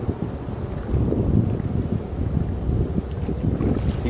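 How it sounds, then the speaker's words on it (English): Steady wind buffeting a microphone at a rainforest camp, a constant low rumble and roar that stays loud and close throughout with no voices. "It's kind of windy here."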